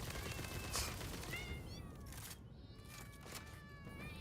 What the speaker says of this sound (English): Oh, cat. He finally found me.